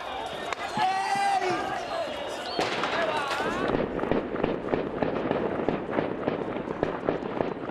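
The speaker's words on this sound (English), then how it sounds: "Gunfire echoed around the city." Rapid sharp gunshots crack and echo off city buildings during an attack, a dense irregular volley after shouting voices at the start, loud and reverberant.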